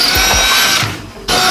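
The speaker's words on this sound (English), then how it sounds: "Now step up to our big drill bit." Power drill with a big bit bores into the brake pedal mount of a 1963 Chevrolet C-10 pickup, loud close whirring with a few short trigger bursts, a brief dip, then the motor surging again.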